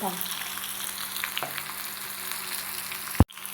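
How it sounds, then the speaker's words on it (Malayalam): Chicken fries in a pan for biryani, giving a steady close sizzle with light crackles, then a sharp clatter near the end followed by a brief drop in sound. "നമുക്ക് ചിക്കൻ പൊരിക്കാൻ വെച്ചിട്ടുണ്ട്"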